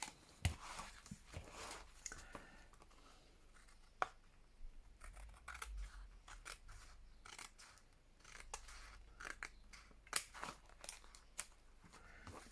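Scissors snip and trim paper for a stitched planner, a string of close, crisp cuts with soft crinkling and rustling of the sheet between snips, quiet and alone with no talking.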